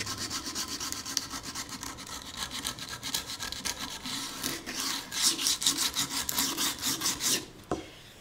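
Sandpaper rubbed by hand over a small wooden bucket, a steady rapid back-and-forth rasping scrub that runs close and continuous, grows louder toward the end, then stops with a knock.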